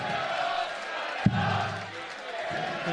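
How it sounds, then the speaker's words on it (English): Crowd noise at the WDF Lakeside World Championships darts, a murmuring, chanting arena din under a commentator's voice, with one sharp thud partway through. "Daniel encouraging the noise from the crowd"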